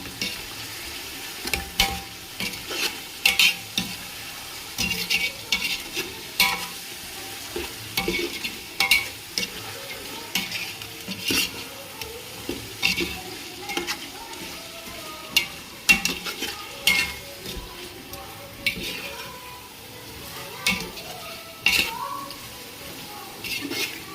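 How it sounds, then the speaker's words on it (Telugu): Coriander powder being stirred into a chicken biryani masala in a pan, a steady soft sizzle with repeated scraping strokes of a spoon, close and fairly loud, with faint talk at times. "ధనియాల పౌడరు 1 స్పూన్, బాగా మిక్స్ చేసుకుందాం."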